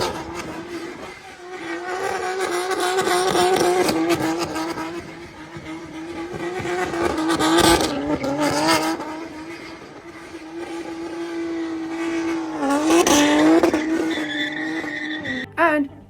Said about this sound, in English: a yellow f80 M3 with a single exit Strata performance exhaust